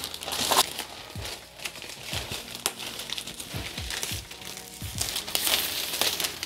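Fabric diffuser being attached with hook-and-loop velcro to a Godox strip softbox, giving continuous close crinkling and rustling of fabric with sharp ripping crackles scattered throughout, no talking.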